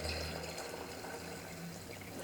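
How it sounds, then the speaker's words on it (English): Water pours quietly into a measuring cup over a dry mix of thirteen beans and lentils set out to soak, giving a soft, steady trickling fill. "I want to cover it with water plus"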